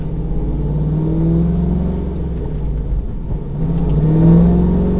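A tuned car engine on a dynamometer drones and rumbles steadily as it is brought up through the gears, with rising pitch sweeps from the engine, loud and close.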